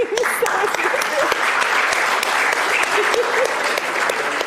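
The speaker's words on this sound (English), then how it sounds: "Give yourselves a round of applause." Applause from a classroom group of children after a paper aeroplane activity, steady dense clapping filling the whole stretch with a few voices mixed in.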